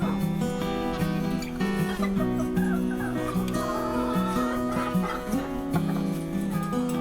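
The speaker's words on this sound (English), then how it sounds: "a check on the chickens." Backyard chickens cluck and murmur in a garden coop, a continuous flock chatter under a steady layer of soft music.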